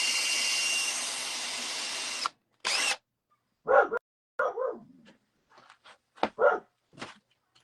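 A dog barks in a workshop where a power drill bores into soft wood: a loud steady drill run opens, then several separate sharp barks follow at uneven intervals, close by.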